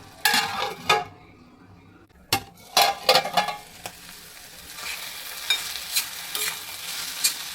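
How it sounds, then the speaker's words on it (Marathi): Methi greens cooking in a pan, with sharp metallic clinks of a lid and utensil against the pan, then a faint steady hiss of steaming underneath. "झाकण झाकून वाफेवर 5 मिनिटं शिजवून घेऊया."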